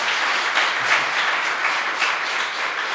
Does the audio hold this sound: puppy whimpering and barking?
no